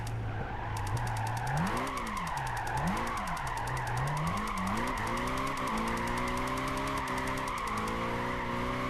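A Mercedes C63 AMG drifting in Gran Turismo 5, engine revving up and down through the slides with sustained tire squeal, loud and close with no talking.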